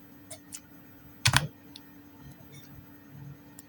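Keys clacking on a computer keyboard while entering table rows, a few soft isolated taps then one loud quick burst of strokes near the middle, with quiet room tone between.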